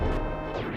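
A bomb explodes in the video game Legend of Zelda Parallel Worlds. It gives a single short, loud crash that starts sharply and decays within a second, with no voice over it.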